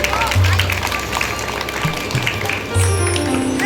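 A crowd at a Navdevi spiritual fair in Delhi claps to welcome guests, continuous applause under loud music and a voice over a public address system.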